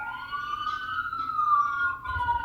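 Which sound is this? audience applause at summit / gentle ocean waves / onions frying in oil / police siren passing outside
police siren passing outside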